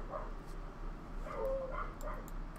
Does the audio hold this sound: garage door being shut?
no